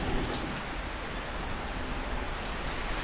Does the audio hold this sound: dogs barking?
no